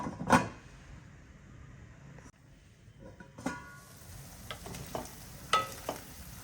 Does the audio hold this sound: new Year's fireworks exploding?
no